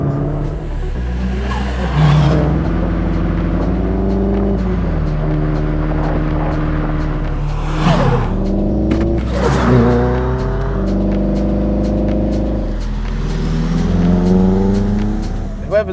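The 1.8-litre 20-valve turbo four-cylinder of an original Audi S3 is revved repeatedly, rising and falling loudly up close, with people talking over it.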